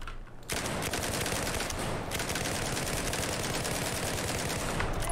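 Sustained rapid gunfire from a weapon in Battlefield 4, dense and continuous automatic bursts running loud and close almost throughout after a brief quiet opening.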